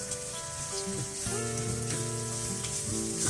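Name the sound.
lemon and shrimp stirred in coconut curry in pan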